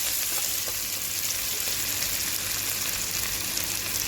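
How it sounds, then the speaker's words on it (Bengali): Chopped ginger and garlic fry in hot oil while being stirred in a pan, giving a steady, close, unbroken sizzle with no talking. "সেগুলো সম্পূর্ণ ভালো করে নেড়ে ভেজে নেবো"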